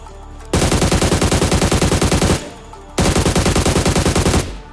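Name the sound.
gunfire in the video game PUBG Mobile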